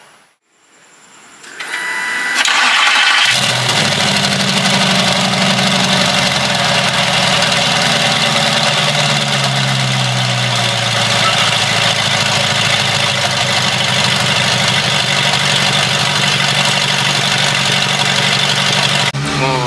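A brief whir and crank give way to an Audi R8 twin-turbo V8 catching and settling into a loud, steady idle that rumbles on without pause.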